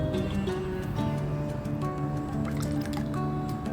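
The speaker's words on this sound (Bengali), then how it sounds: "এবার আমি এটা একটা বাটির মধ্যে ঢেলে নেব" Sweet curd (mishti doi) mixture poured into a bowl, a steady thick liquid stream with soft glugs and drips, close and continuous.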